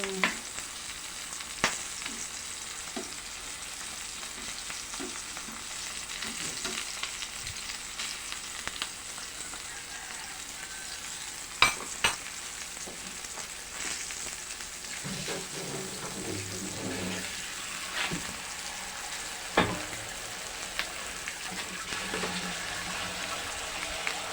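Dried fish (tuyo) frying in oil in a pan, a steady close crackling sizzle throughout with occasional sharp pops and the scrape of flipping around the middle.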